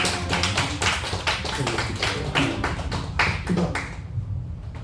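Church congregation clapping together during a service, a dense run of many hands beating in steady rhythm for several seconds before thinning out and fading toward the end.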